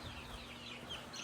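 Chicks cluck softly against a faint, noisy background, a brief and quiet burst of fowl sounds.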